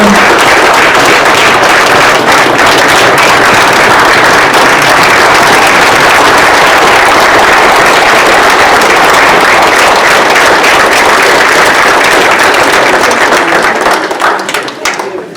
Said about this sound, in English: rise and give them a round of applause, everyone.